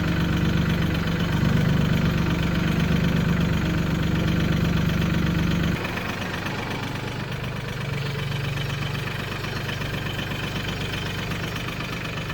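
A tractor engine idling on a rural property, a loud, steady rumbling drone with a slight knock that drops in level partway through.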